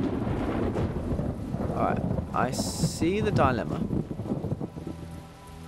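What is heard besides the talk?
rain and thunder in the video game The Talos Principle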